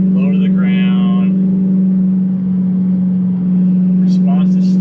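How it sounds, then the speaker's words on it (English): Exhaust of a gated Audi R8 drones inside the cabin while driving, a steady low hum that holds evenly throughout, with a voice speaking briefly over it at the start and again near the end. "Not overly loud exhaust inside the cab."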